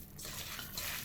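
Liquid drips and trickles from chhena cheese being squeezed by hand in a kitchen while making Odisha chhena poda dessert, a soft wet dribble with no talk.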